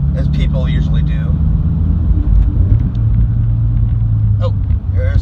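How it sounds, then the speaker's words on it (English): A supercharged Scion FR-S engine drones steadily at low pitch while driving, a constant close rumble with occasional faint voices over it. "I am driving my supercharged FR-S"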